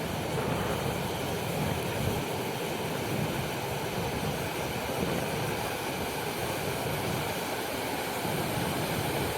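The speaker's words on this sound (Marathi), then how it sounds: "लय मस्त स्लो स्लो पाणी उतरू राहिलं इथं" A small waterfall with water flowing down slowly produces a continuous, even rush of splashing water, steady and moderately loud with no speech.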